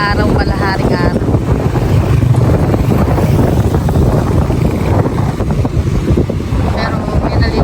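Wind blasts steadily across the microphone by the shore at Bagasbas beach, a loud continuous rumble, with a person talking briefly at the start and end.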